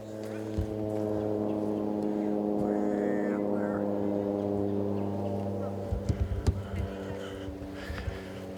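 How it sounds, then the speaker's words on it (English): An airplane flies overhead somewhere remote and wooded, giving a steady, droning hum that holds for the whole stretch, with a few faint knocks and rustles near the end. "There's an airplane."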